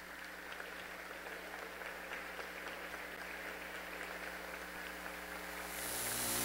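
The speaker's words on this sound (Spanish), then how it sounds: "Brindémosles un aplauso." Applause from an audience at a literary works presentation event, a faint, even patter of clapping hands heard from a distance that swells louder at the very end.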